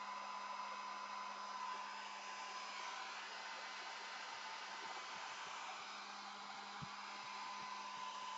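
A hair dryer blows steadily on a gelli plate monoprint to dry the paint, a continuous loud whooshing roar with a fixed motor hum that runs unbroken the whole time, with one faint tap near the end.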